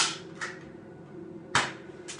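A toy gun fires in a backyard-style shooting race, giving a few sharp, snappy pops spaced irregularly: two quick shots at the start, a pause, then two more close and crisp.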